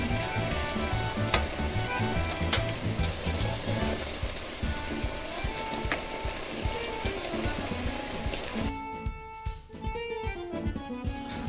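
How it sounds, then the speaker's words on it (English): Eggplant slices frying in vegetable oil, a dense crackling sizzle with scattered pops that runs continuously, loud and near, with a brief shift in texture toward the end and no talking. "I'm all done frying the eggplants"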